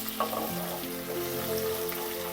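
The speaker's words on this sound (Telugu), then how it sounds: "వెల్లుల్లి పేస్ట్ మనకు ఫ్రై అయిపోయిందండి." Garlic paste frying in a pan while making green chicken, a quiet steady sizzle with a few soft stirring scrapes and a faint background hum, no voices over it.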